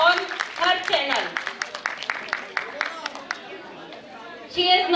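Audience at a women's empowerment event applauding an influencer, irregular individual claps over crowd chatter, moderately loud and close, with a swell of noise near the end.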